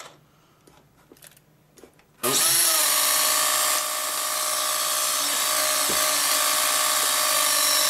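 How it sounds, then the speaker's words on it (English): A model airplane's electric motor starts abruptly after a quiet pause and runs loud and steady, a high whine that holds to the end with a slight drop in level partway through. "There's quite a bit of poke in that motor."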